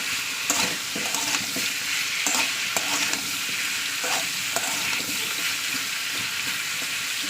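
Ground ginger and garlic spice paste fries in a pan, a constant sizzle broken by repeated scraping stirs of a spatula, close and moderately loud with no talking.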